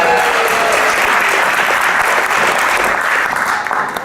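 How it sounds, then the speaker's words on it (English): An audience at an institute demo event claps for a volunteer, with loud, dense, sustained applause that fills the room and fades slightly toward the end. "another round of applause for being the first guinea pig up there"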